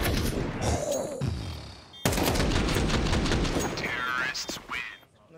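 Rapid gunshots in the Counter-Strike video game during a match replay, a dense near continuous volley of sharp cracks with a voice talking over parts of it.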